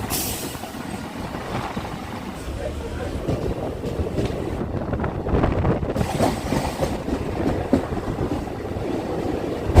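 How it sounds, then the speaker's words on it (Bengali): A Ranaghat-Sealdah local electric train on India's Eastern Railway rolls into Shyamnagar station with a steady loud rumble and clatter of wheels on track, and a voice speaks over the noise. "আমাদের ট্রেন প্রবেশ করলো শ্যামনগরে"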